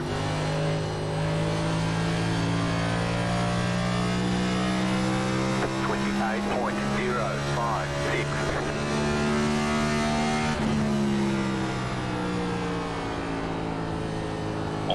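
A race car engine in a racing video game set at Phoenix Raceway drones loudly and steadily for the whole stretch, holding a near-constant pitch with small shifts as it carries through the corners.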